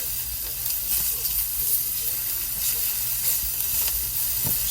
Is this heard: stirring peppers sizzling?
yes